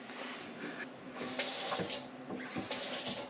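Water runs steadily from a tap connected to a Waterdrop K6 RO filter, a broad hiss with a few splashy surges as the flow shifts, fairly close and with no voices.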